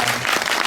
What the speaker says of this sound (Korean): 네, 이렇게 박수 좀 보내드릴게요.